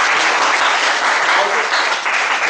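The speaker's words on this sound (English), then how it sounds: "Give her a round of applause for that." Audience applause at a speakers forum, loud, continuous crowd clapping with no talk over it.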